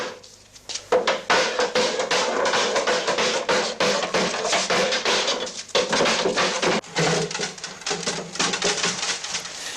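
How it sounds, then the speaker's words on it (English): Rapid, irregular metallic hammer blows ring out in quick succession, loud and close, with brief pauses between bursts, as a steel hoop is hammered tightly onto a wooden barrel. "forced into a tight fit by hammering a steel hoop firmly over the timber"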